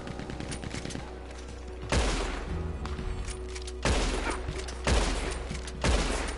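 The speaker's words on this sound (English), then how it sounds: "Someone's on a Gatling gun, you hear that?" A Gatling gun fires in the online Western video game Red Dead Online, heard as four loud, rapid bursts of gunfire at about two-second intervals over a constant game background.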